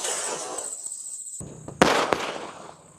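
A 30-shot Sivakasi firework box set in water fires two sharp, loud pops in quick succession over a soft hissing background, then the noise fades.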